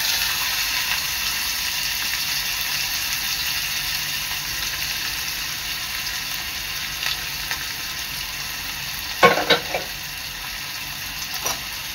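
Finely chopped onion and curry leaves fry in two to three ladles of hot oil, making a steady, even sizzling hiss. A few short utensil clatters come near the end.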